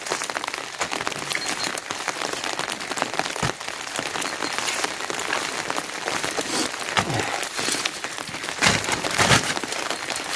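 Rain falls steadily on a rural village worksite, a dense, even patter of drops hitting surfaces throughout, with a few louder splashes and no talk.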